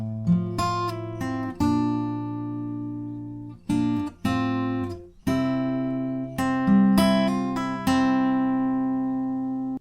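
Acoustic guitar picks out a melodic single-note line, with ringing plucked notes, some hammered and pulled, played alone at a moderate, steady pace.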